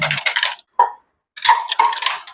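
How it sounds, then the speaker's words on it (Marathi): Metal kitchen utensils clink and clatter as they are wiped and stacked away while a room is cleaned. Short bursts of clanking come in a few clusters, broken by a brief silent gap. "आपापली भांडी वगैरे पुसून घ्या,"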